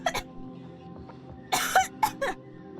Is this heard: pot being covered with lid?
no